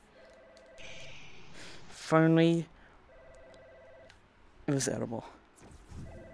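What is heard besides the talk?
telephone ringing in the Budget Cuts video game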